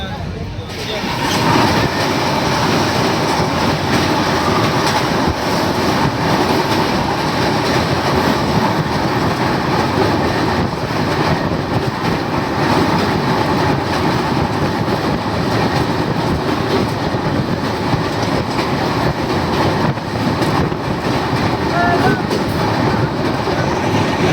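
A loud, continuous rumble of the Sarbat Da Bhala Express train rolling along the rails between Jakhal and Sultanpur Lodhi, with a steady rhythmic clatter throughout and no pauses.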